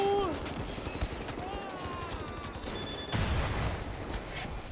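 Gunfire in Wolfenstein: The New Order, a dense, continuous clatter of shots mixed with game effects and a brief burst of louder fire near the end.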